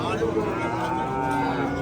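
Cattle mooing at a crowded cattle market, a loud, sustained low bellow filling the short moment against a dense background of livestock and crowd noise.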